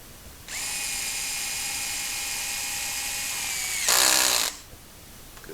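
A power drill drives a screw into a door lock backing plate with a steady high whine lasting about three seconds, ending in a brief louder burst as the screw seats, close and clear with no talking.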